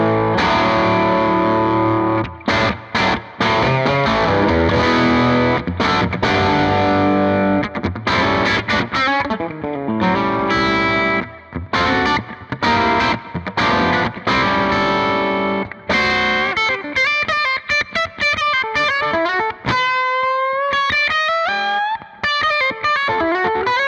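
Electric guitar played through the treble boost channel of a Victory V4 amp, loud and distorted, with dense chords and sharp stops that give way to bright, ringing single-note runs and bends near the end.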